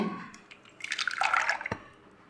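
Milk being poured into a pan for a caramel pudding cake, a brief splashing pour lasting about a second, followed by a few light drips.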